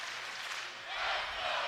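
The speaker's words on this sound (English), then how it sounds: "And the crowd trying to ramp up the intensity." Crowd cheering at an Army vs Navy wrestling match: a steady, dense roar of voices and clapping that swells louder toward the end.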